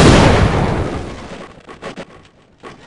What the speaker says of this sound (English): that was one hell of an explosion